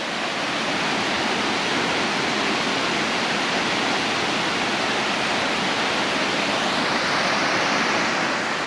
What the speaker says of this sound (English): beauty of the waterfalls.